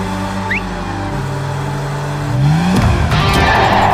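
A car being driven through busy traffic, its engine a steady close hum that rises into a louder revving surge near the end, with a brief tire-like squeal; no talking.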